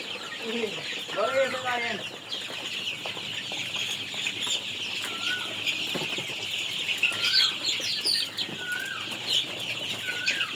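Chickens cluck and squawk at a poultry farm, with several birds calling at once, wings flapping now and then, and a constant busy flock chatter all around at close range.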